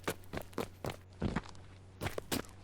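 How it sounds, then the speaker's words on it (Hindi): Footsteps from a player character in a video game land in an even walking rhythm, about eight steps over a couple of seconds, fairly faint and alone. "हाँ, मेरे पैरों की आवाज़ है।"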